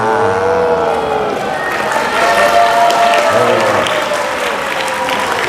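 Students clap at a school gathering, a dense close burst of applause mixed with crowd chatter and shrill voices.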